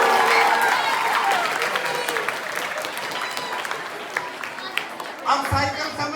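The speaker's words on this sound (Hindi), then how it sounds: "जोरदार तालियां ऐसे बच्चों के लिए बजाओ" Loud, dense applause from an audience for children, a sustained roar of clapping that thins toward the end, with a brief voice near the close.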